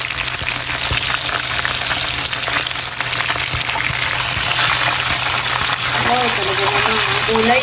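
Prawns deep-frying for tempura in hot cooking oil give a steady, loud crackling sizzle that runs throughout, with faint speech-like sounds near the end.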